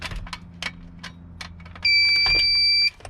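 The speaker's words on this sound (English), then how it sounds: "There's a beep" A steady electronic tone sounds for about a second from an aftermarket Android 10 navigation radio being connected in a 2009–2012 Ford F-150, over a faint background of handling noises.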